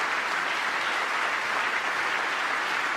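A large audience claps at a State of the Union address, a dense, even wall of applause that holds steady throughout with no voices above it.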